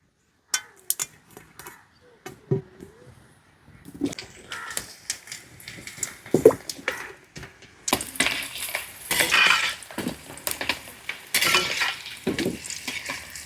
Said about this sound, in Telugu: మిగిలిన ఈ కాయలు కూడా దోరగా వేయిస్తాను.